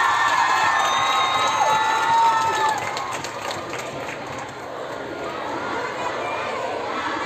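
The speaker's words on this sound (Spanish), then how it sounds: "la palabra que más gritan es justicia" A large protest march crowd on a city street shouts and chants for justice, a dense continuous roar of many voices that is loud at first and then eases slightly.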